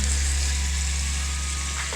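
Chicken for tacos sizzles and crackles steadily in a hot pan, a loud continuous frying hiss close up with no talking.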